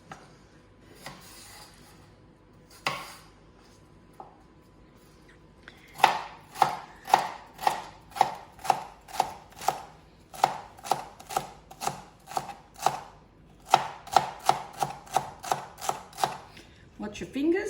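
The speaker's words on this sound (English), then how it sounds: "So we chop up some onions nicely and fine." A knife chops onions finely on a board for a sofrito sauce: a few scattered cuts, then a quick, even run of about twenty crisp, close taps with short pauses between bursts.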